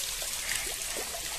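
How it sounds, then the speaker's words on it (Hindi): A small artificial waterfall in a park, heard close as a steady, full rush and splash of falling water with no break throughout. "तो देख सकते हैं कि यहाँ पे एक छोटा सा झरना है।"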